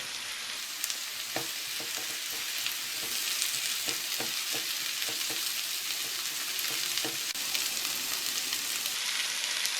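Chopped carrot, parsley root, zucchini and pepper sizzle steadily in a frying pan for a vegetable soup, with soft stirring scrapes and ticks over the constant hiss, no talking.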